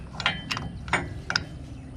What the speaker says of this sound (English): basically what I'm doing is just tightening this up